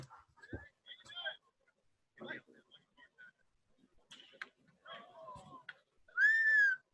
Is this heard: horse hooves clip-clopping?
no